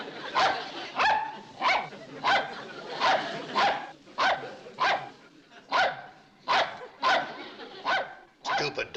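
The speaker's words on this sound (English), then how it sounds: "Stupid dog." A dog barks repeatedly at close range, about a dozen sharp, evenly spaced woofs with a few yips mixed in, loud and alone.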